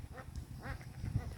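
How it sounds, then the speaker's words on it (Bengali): Domestic ducks with their ducklings bathing in village water in the morning, giving a few soft quacks and honking calls, fairly faint against a quiet background. "হাঁসের যে স্নান করছে দেখে খুব ভালো লাগছে, সকাল সকাল বাচ্চাও আছে সাথে।"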